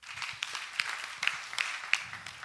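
Scattered applause from a school orientation audience greets a speaker: a thin patter of claps with a few sharper, louder hits, fairly faint and lasting a couple of seconds.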